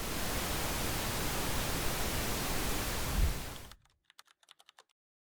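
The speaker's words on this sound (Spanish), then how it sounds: "Así suena el ruido rosa." A steady wash of pink noise, loud and even for several seconds, then cutting out abruptly and followed by a short burst of rapid computer keyboard typing.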